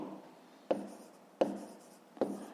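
A pen writes by hand on paper while working a fifth-grade maths exercise, making soft, close scratching strokes with three short sharp taps at roughly even intervals.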